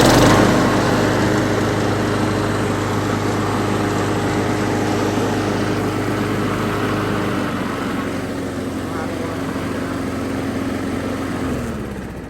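A 2000 Craftsman 22-inch lawn mower engine runs loud and close with a steady buzzing drone, holding even throttle before dropping and winding down near the end.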